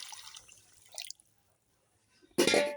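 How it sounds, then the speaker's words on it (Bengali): Water splashes into a pan of potato curry after scattered faint drips and near silence, ending in a brief, loud pouring gush. "এই জল দিয়ে দিলাম"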